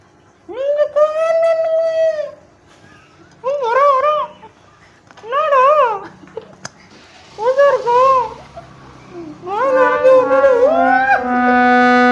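A dog whimpers and whines in a series of high, drawn-out cries, several separate bursts with short gaps between them, close by and loud, with faint rustling of movement in the pauses.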